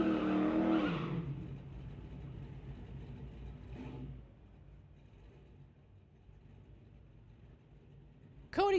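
Drag racing cars at a street-legal strip, a Chevelle against a 1970 Dodge Dart, roar loudly close by at first, then fade into a distant drone, ending with a brief sharp tire squeal.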